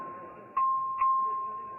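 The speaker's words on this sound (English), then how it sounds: "Clerk, ring the bell." A bell rings in a legislative chamber to call a record vote, two quick dings over a steady electronic tone, with no talking over it.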